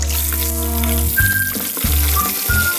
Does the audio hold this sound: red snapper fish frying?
yes